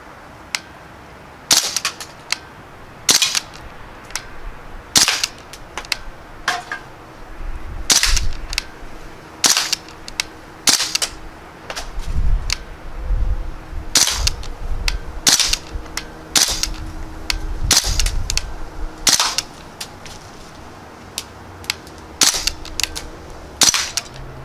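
A Crosman Panther Arms DPMS BB rifle fires a long series of sharp, snappy shots at irregular intervals, close and loud, with faint handling noise between shots.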